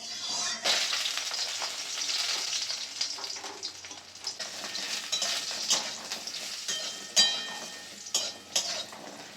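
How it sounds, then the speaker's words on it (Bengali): Lentil dumplings frying in hot mustard oil in a kadai, a close, continuous crackling sizzle with occasional clinks of a utensil against the pan. "ডালের বড়িগুলো ভেজে নেব লাল করে"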